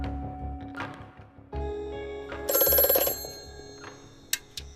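An old telephone bell rings in a short burst, with faint background sounds before and after and a couple of sharp clicks near the end.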